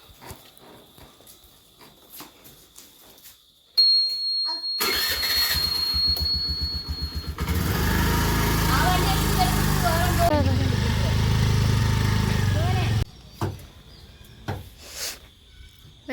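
A vehicle engine cranks, catches, then runs at a steady idle that shifts to a heavier, louder rumble before cutting off. It is close, with quiet stretches before and after.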